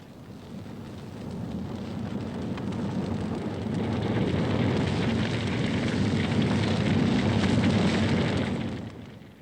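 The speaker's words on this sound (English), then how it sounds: "every summer they may feel it as winds from the deserts bring fires like this." A bushfire roars across rural Australian landscape, a broad, steady rushing and crackling rumble that swells and holds loud before fading at the end, with no voices.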